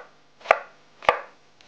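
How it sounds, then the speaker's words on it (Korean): Knife chopping vegetables into thin strips on a cutting board, two sharp isolated chops about half a second apart in a quiet room. "채 썰어서 준비해 줄게요."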